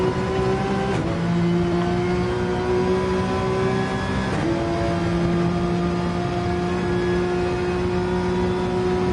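A Porsche race car in a sim-racing endurance event at the Nürburgring chases two McLarens, its engine droning loud and close with steady tonal revs, dipping sharply at two gear shifts before climbing again.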